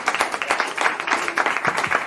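An audience applauds to welcome a singer, distinct individual claps merging into a lively, fairly close burst of clapping that keeps going throughout.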